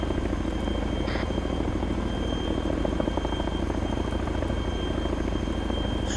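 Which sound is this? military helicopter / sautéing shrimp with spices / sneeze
military helicopter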